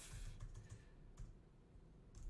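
Quick clattering keystrokes on a computer keyboard come in short irregular bursts, quiet and fairly close, with no voices over them.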